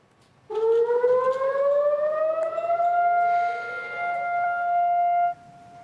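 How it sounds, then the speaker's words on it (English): A civil defense siren wails across Israel on Holocaust Remembrance Day, rising in pitch and then holding a long, loud, steady tone before cutting off; no voices. "Sirens blared across the country for 2 minutes."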